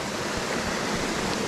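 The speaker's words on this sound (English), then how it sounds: "it's this giant waterfall" A giant waterfall on a small trout creek roars as a dense, even rush of falling water, steady and unbroken, heard from nearby with no voices.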